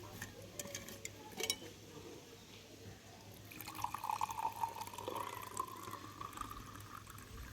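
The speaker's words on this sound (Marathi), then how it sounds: "त्यानंतर ह्याच्यात पाणी होते या." Water is poured into a glass during drink preparation, a faint trickle whose filling tone rises over a few seconds in a quiet room.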